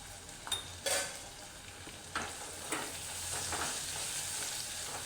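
Raw mango relish with Kashmiri red chili stirred in a pan, a quiet steady sizzle broken by a few sharp clinks and scrapes of the spoon against the metal, close up with no voices.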